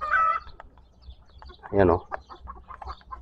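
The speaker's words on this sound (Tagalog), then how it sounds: "Daming manok dyan. Ayan, manok yan lahat. Native lang yan mga idol." Native chickens cluck and squawk around a yard in hot weather, one loud burst standing out among softer scattered clucks while someone talks briefly over them.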